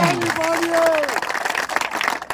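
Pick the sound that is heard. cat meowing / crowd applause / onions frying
crowd applause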